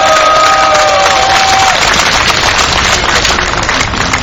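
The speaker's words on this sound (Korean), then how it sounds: "우리 민가협 어머님들께 박수 한번 부탁드리겠습니다" Loud, sustained applause from a large crowd at a human rights rally in Korea, dense clapping with some cheering mixed in.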